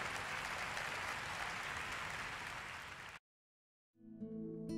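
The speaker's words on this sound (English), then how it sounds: "Give the Lord a big hand." A church congregation claps in praise, a dense sustained burst of applause for about three seconds that cuts to silence before music swells in.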